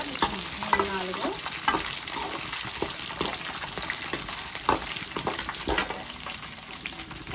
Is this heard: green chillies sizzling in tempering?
yes